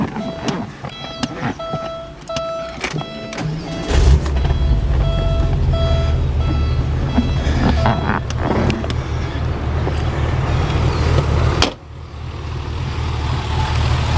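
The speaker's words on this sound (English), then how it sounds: "Let me go ahead and fire it up for you." 1996 Porsche 911 Carrera cabriolet with a 3.6-liter engine and factory dual exhaust cranks and catches a few seconds in, then settles into a steady, close idle, with scattered clicks and beeps beforehand.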